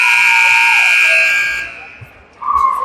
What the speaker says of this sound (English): we're at the buzzer for the first quarter here